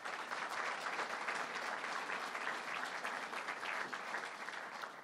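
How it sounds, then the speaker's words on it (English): An audience at a state budget announcement event applauds, a steady, sustained wash of clapping from many hands at moderate distance, with no speech over it. "Let's give all of them a big round of applause."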